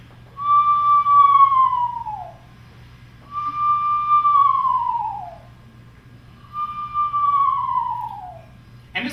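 A person whistles an imitation of a screech owl's territorial call: three long, clear descending whistles with harmonics, each about two seconds long and separated by short pauses, heard alone over a faint steady hum.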